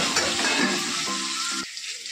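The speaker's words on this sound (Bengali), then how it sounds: "এবার হলুদ দিয়ে লবণ দিয়ে আলুগুলোকে একটু ভেজে নেবো।" Potatoes fry with turmeric and salt in a pan, a steady close sizzle with a brief stir partway through, and the frying quiets slightly near the end.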